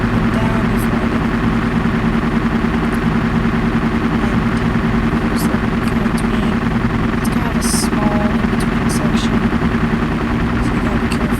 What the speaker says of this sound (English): So this helicopter is pretty cool though.